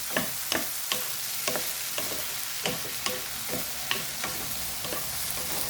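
Okra for adobo fries in a pan, the sizzle running under repeated spatula scrapes and taps that come at a fairly even rhythm, heard close and without talk.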